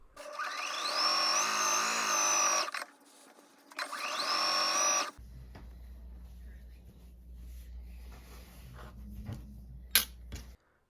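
A sewing machine joins T-shirt quilt squares on a Florida-themed quilt. Two loud whirring motor runs rise in pitch, followed by a steady low hum with scattered clicks close by.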